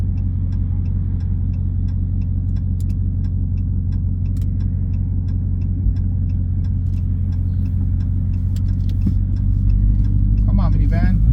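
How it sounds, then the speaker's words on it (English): Supercharged V8 of a Dodge Hellcat Widebody cruising on the road, a steady low engine drone and road rumble throughout, swelling slightly near the end, with occasional faint clicks. "can make you hear some more of this glorious supercharged V8 sound"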